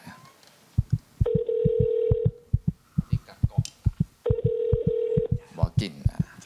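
A telephone call placed during a television variety show, with rhythmic thumping pulses and two long ringback tones repeating a few seconds apart, while faint speech sounds mix in near the end.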